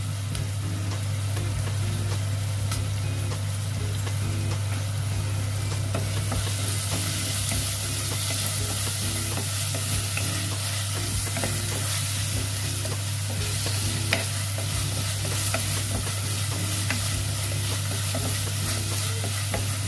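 Ginger garlic paste frying in a pan for a salmon fish curry, giving a continuous close sizzle with light stirring scrapes and a steady hum underneath, no voices.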